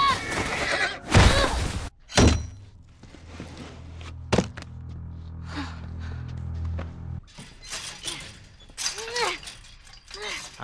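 A horse in The Last of Us video game gives sharp whinnies and snorts amid bursts of impact noise, clattering hooves and mechanical thuds, with a voice speaking in places.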